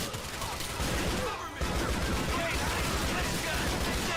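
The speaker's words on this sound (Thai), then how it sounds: "ปืนนี้บอกเลยว่าโคตรเทพ คตรแรงด้วยเลยนะแล้วก็ยิงรัวได้ด้วยนะครับ" Rapid gunfire from a new gun in GTA IV The Lost and Damned: a dense, continuous, loud stream of shots with only a brief dip near the middle.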